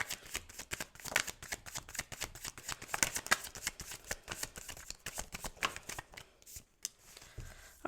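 Tarot cards are shuffled by hand in quick, soft riffling bursts with crisp flutters and light slaps, close and fairly quiet, with no talking.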